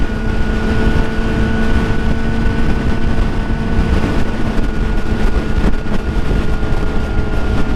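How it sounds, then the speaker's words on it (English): Strong, steady wind roar buffets the microphone on a moving motorcycle, loud and continuous throughout, with a low engine drone underneath and no talking. "Oh god, this wind."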